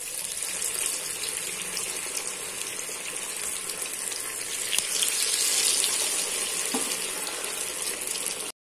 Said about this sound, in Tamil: நான் வந்து ஆயிலில் பொரிக்கிறேன்.